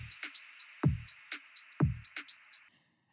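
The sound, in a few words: hi-hat drum loop sample with lows cut, garage beat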